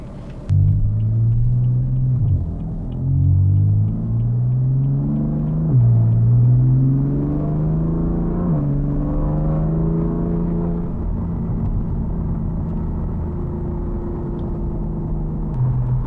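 A BMW M3 with a burble exhaust tune rumbles through a series of automatic downshifts, each marked by a rising, blipping engine tone that steps back down, loud and close with no talking.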